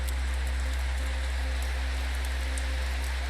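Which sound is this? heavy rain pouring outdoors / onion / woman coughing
heavy rain pouring outdoors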